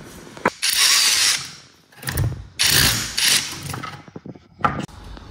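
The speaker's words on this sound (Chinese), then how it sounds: "用加长钻头加深" A power drill with an extended bit bores deeper into a hole, likely into rock slab for mounting a TV; two loud sustained bursts of drilling with a clattering pause between and a short knock near the end.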